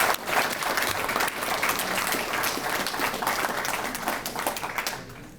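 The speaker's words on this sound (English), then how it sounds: "Give them a round of applause." A crowd at a Fiesta Days reading challenge awards event applauds students, with lively, crisp clapping from many people that stays strong throughout before trailing off at the end.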